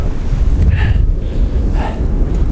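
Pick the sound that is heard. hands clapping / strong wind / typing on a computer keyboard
strong wind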